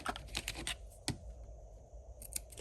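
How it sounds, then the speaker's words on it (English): Paper being cut and torn while making a small crayon box journal: a quick flurry of crisp snips and rips, a pause, then a few more close, sharp tearing strokes. "So let's do another cut and tear right about here."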